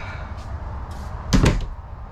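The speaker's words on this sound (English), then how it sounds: "Close the door real quick." A bathroom door inside a Class A motorhome swings shut with a single soft thud and latch click near the mic, preceded by faint rustling in a quiet room.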